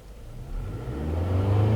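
2009 Toyota Camry 2.4L engine revving after a light throttle tap, a low hum that climbs steadily in pitch and loudness over about two seconds, heard close and alone.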